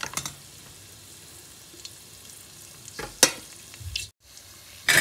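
Pork cracklings (chicharon) bubble and sizzle in boiling oil, a steady low crackle punctuated by a few louder pops and stirring clatters, with a sudden gap of near silence before the frying returns.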